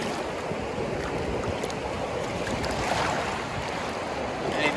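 Incoming tide washes onto a beach at high tide in a steady, rushing roar of surf with no distinct breaks, moderately loud and continuous throughout.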